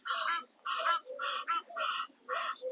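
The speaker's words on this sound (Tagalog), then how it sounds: "ingay ng gansa" Geese honking at a lake park on the Abu Dhabi Corniche: five loud, nasal honks repeat in a steady rhythm, fairly close, with no voices over them.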